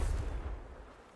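Confringo, the blasting spell in a video game, bursts with a deep booming blast that is loudest at the start and decays through a fading rumble, quieter and somewhat distant.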